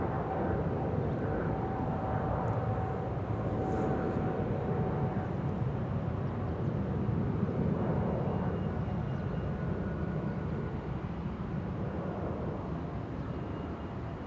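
A departing airliner climbs away from a runway at Amsterdam Schiphol Airport, a steady, moderately distant broadband engine roar that holds evenly and fades slightly toward the end.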